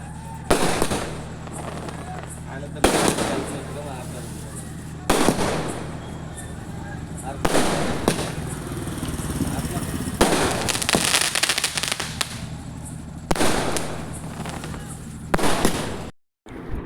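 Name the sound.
firecrackers bursting at Ganesh procession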